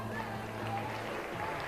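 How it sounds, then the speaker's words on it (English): Brief applause at a junior livestock show for market goat exhibitors in the ring, a steady patter of clapping from the audience with a low hum underneath. "Let's give them a round of applause."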